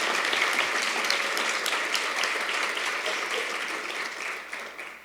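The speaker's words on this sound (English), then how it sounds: "Let's go ahead and give them a round of applause." Audience at an award ceremony for computing honorees applauds steadily, a dense, even wash of many hands clapping that holds for several seconds and tapers slightly near the end, with no talking over it.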